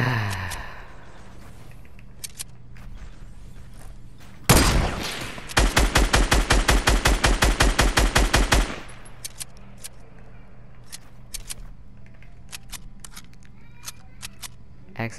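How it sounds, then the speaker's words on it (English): Rapid shotgun blasts from the video game Fortnite crack out in a loud, dense burst of about a dozen evenly spaced shots over roughly four seconds, after a single heavy opening blast, with quiet game ambience before and after. "Accidentally shot with my shotgun, I guess"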